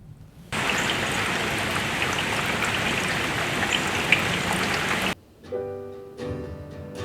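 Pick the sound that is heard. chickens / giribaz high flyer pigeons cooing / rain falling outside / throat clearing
rain falling outside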